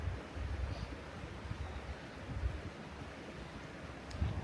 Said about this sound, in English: enjoy the sounds of the creek